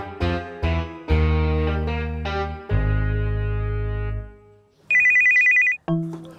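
A mobile phone rings for an incoming call, a loud melodic ringtone of bright electronic notes followed by a sharp buzzing burst, heard alone and close.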